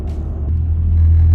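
A truck on a road at night, passing close by as a loud low engine rumble that builds steadily and stays heavy and continuous, with no voices.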